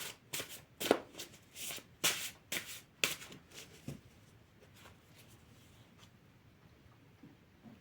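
A deck of cards riffled and shuffled by hand in repeated quick bursts, fairly close and moderately loud for the first few seconds, then fading to soft handling.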